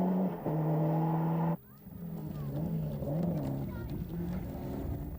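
Rally car engine in a 1995 rally over rough surfaces, a loud droning note that cuts abruptly, then quieter revving and rumbling with a voice commentating over it.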